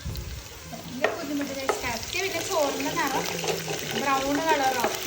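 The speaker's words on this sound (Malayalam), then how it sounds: "കത്തിപ്പോകരുത് ഗൈസ് വേഗം തന്നെ ഇളക്കണം" Spices, including cardamom, fry and crackle in a pan while being stirred quickly for a chicken curry, with a steady sizzle and spatula scrapes under a voice talking over it.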